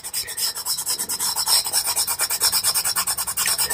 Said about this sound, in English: Now I'm putting this in and I'm rubbing it in